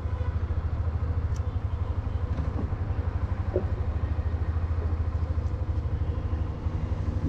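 Hero Xtreme 125R motorcycle engine running while riding, a steady low rhythmic thrum, close and even throughout, with faint wind rush on top.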